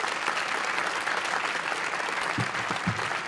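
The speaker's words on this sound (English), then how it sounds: "So let's give them a round of applause." An audience at an American Cinema Editors event gives sustained applause, many hands clapping in a continuous even roar throughout.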